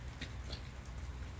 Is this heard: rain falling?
yes